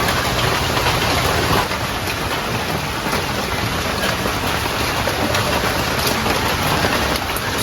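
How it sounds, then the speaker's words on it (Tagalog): Heavy rain falling in a rural Philippine setting, a loud dense steady hiss that stays even throughout, close by and with no voices over it. "Nakakaalis na kayo pag tumila na ang ulan."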